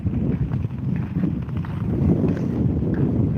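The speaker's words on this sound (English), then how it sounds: "But it is windy. There is definitely a wind right here." Blustery wind buffets a phone microphone fitted with a homemade wind muff while skating outdoors on the frozen Rideau Canal in Ottawa, a steady low rumble with gusty swells and no talk.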